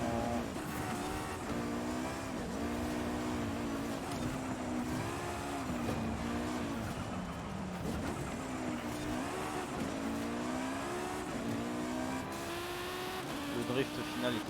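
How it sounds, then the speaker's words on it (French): Rally car in the racing game Forza Horizon 5 accelerating hard out of a checkpoint, a steady loud engine drone with rising and falling revs across shifts, sustained throughout with a voice talking over it. "Allez, on y va, reprise d'accélération."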